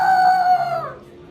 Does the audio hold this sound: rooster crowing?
yes